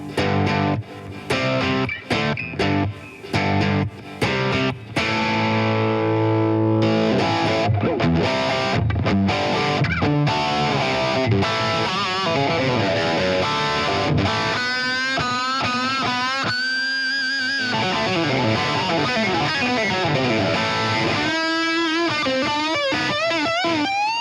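An electric guitar through a Shredmaster distortion pedal plays loud, heavily overdriven riffs: choppy stabbed chords at first, then sustained notes and bends with a thick, saturated tone, continuous and unaccompanied by talk.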